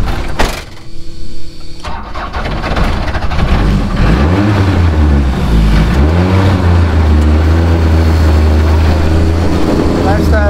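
A rally car engine rises and falls through several hard accelerations in Antigua, a loud close drone that climbs in pitch, with someone talking over it.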